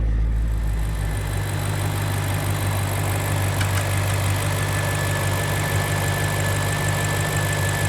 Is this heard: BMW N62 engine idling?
yes